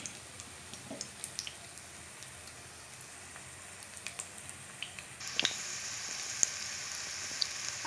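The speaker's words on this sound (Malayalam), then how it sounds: "നമുക്ക് ഫില്ല് ചെയ്ത് വെച്ചിരിക്കുന്ന പഴങ്ങൾ ഓരോന്നായിട്ട് ഇതിൽ പൊരിച്ചെടുക്കാം." Stuffed ripe bananas (Malabar pazham nirachathu) deep-frying in oil over low heat, a steady fizzing sizzle with scattered pops and crackles that jumps louder about midway as more pieces go in, with no talk.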